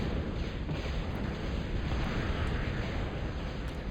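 Bombing explosions in a real-time strategy battle, heard as a steady dense rumble of overlapping booms and blasts, fairly distant and continuous, with no clear gaps between impacts.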